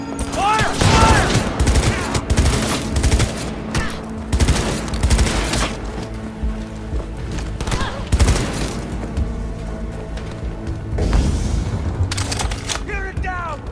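Gunfire in Cyberpunk 2077 on PS4, dense rapid bursts of automatic weapons and booming shots through a loud battle mix, with voices shouting over the fighting.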